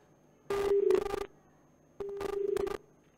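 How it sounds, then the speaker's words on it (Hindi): Telephone keypad tones sound in two short bursts of rapid dialing beeps, clear and close, with a pause between them and no talk. "उनको भी हम फोन मिला रहे हैं।"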